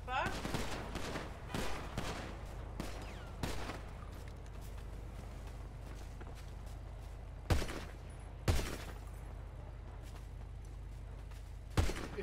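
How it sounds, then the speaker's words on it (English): Gunfire from a video game shooter, with sharp, loud shots cracking out at irregular intervals, clustered early and then spaced a few seconds apart over a steady low rumble; voices talk quietly underneath. "Is he the one that was shooting me?"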